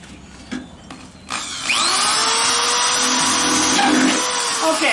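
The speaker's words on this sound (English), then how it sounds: "So what I'm going to do is I'm going to rivet it together. Okay, so I'm going to drill a hole here." Power drill boring a hole through thin metal for a homemade coal scuttle: a few short clicks, then the drill spins up and whines steadily and loudly for several seconds, close by.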